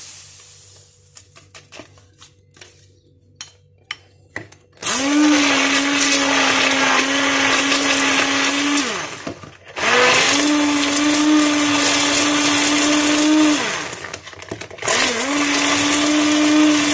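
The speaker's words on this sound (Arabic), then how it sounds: "غادي نطحنوا البيض مع الفاني" A Moulinex food processor grinds eggs with vanilla in loud, steady bursts: a quiet start with a few faint clicks, then about four seconds of whirring, a brief pause, another long run, a second short pause and a final burst.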